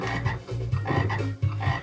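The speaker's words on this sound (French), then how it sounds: "c'est pas une grenouille, c'est un crapaud" A toad croaks in a Mr. Bean video game, a loud, close, rhythmic series of low rasping croaks repeating several times in under two seconds, with no talk over it.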